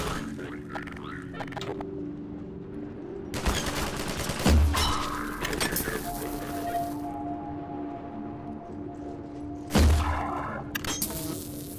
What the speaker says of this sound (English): He's shooting bolts.